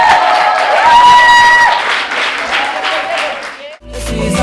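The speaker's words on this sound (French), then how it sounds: "On les applaudit bien fort." Wedding guests inside a church applaud the newly married couple with loud, full clapping that mixes with voices and a held musical tone, then cuts off sharply near the end as a voice takes over.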